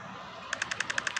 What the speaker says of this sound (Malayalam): ഇത് മിനി ഗണ്ണും പിന്നെ ഞാൻ മറ്റേ പറഞ്ഞ ഗണ്ണിൻ്റെ മിക്സറാണെന്നുണ്ട്